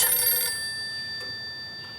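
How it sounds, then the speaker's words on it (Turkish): A telephone rings loudly in a home in a Turkish period drama, a bright, steady burst of ringing at the start that fades to a quiet, lingering tone. "Aa, ah, telefon çalıyor."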